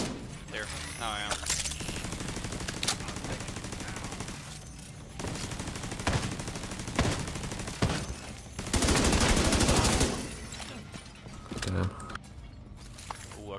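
Turret gun firing in The Division 2: repeated bursts of rapid automatic gunfire, loud and close, separated by short pauses, with a long sustained burst in the later part.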